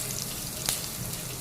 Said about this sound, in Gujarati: 1 વાટકી જેવું પાણી દીધું